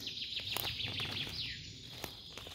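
Birds chirp and call in a forest during mushroom picking, steady high twittering running through the whole stretch with a few sharper notes and faint rustling or footsteps underneath.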